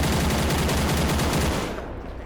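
Loud, dense automatic gunfire from the military video game Arma 3 rattles continuously in rapid overlapping bursts, then thins into a fading echo at the end.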